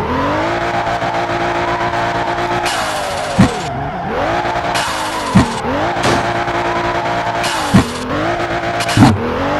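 Sports car with a 700 HP engine in the Assoluto Racing game, a loud, steady engine drone that holds close and rises and falls with revving and gear shifts, broken by repeated sharp tire squeals and skids.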